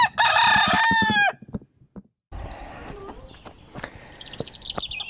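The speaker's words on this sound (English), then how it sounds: "So down here with the chickens in our little bit of orchard" Rooster crowing loudly and close in a small orchard, a long harmonic call followed by a pause, then softer clucking and chirping from chickens against outdoor background noise.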